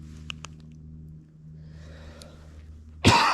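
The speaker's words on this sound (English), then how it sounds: "Still got a cough from my sickness." A single sharp cough bursts out near the end of a quiet stretch outdoors during an early-season bow hunt for deer in Florida's Lake George WMA, after a low steady hum and a few faint ticks.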